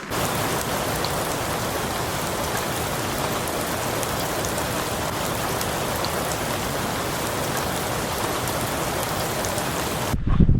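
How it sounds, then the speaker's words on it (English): Heavy rain pours steadily during a mountain storm, a dense even hiss of drops striking surfaces close by, constant and loud for the whole stretch before cutting off abruptly. "It is starting to rain."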